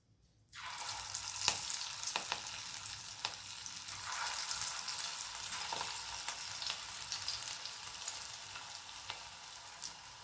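Moth bean dal bhaji fritters sizzle steadily in hot oil after a faint quiet start, a dense continuous frying hiss with scattered sharper pops and crackles, close and moderately loud with no talking.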